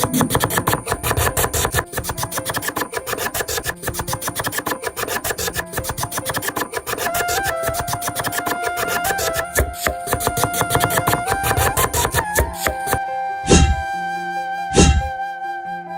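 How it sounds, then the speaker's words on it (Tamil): Rapid, steady knife chops through coriander on a board, a dense rhythmic tapping close up, ending with a couple of louder knocks. "கொத்தமல்லி நல்லா பொடிசாக நறுக்கி எடுத்தாச்சு"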